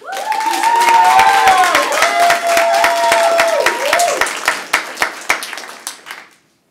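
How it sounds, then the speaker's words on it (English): An audience at an Asian American monologue and performance event applauds and cheers for a singer, dense clapping with voices and whoops mixed in, gradually thinning to scattered individual claps before fading out. "so please give a round of applause for her."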